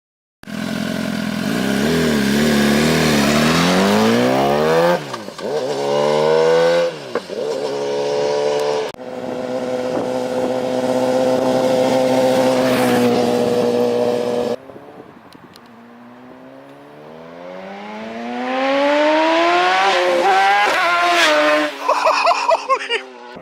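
BMW S1000RR sport bike fitted with an Arrow Evo 2 exhaust making several high-speed passes, each a loud rising then falling engine howl with gear-shift breaks, separated by short quieter gaps before the next screaming approach.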